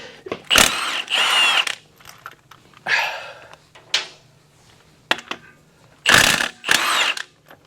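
A power tool removes bolts from a 1969 Chevelle SS 396 Muncie transmission in loud, close bursts, two pairs of sharp whirring runs with quieter clanks and rattles between them.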